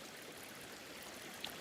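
A river stream flows in the video game A Plague Tale Requiem, a soft, steady broadband rush of water heard faintly and alone, with one tiny splash near the end.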